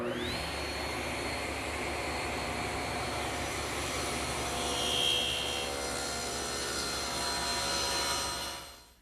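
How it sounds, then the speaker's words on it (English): A jointer planing a tapered wooden workpiece in a woodworking shop, making one steady, loud continuous whine of the spinning cutterhead lasting several seconds before it winds down, with no voices. "One pass through the joiner and it takes away all those rough saw marks."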